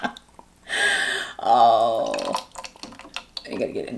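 A voice imitates drowning with gurgling, burbling noises in two long bursts, close and fairly loud, followed by a short vocal sound.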